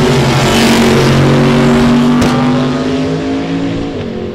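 Drag racing cars on the strip, a third-gen Camaro and a stick-shift ProCharger-powered Mustang, roar loudly up close with rising engine tones and a sharp burst midway, fading slightly toward the end.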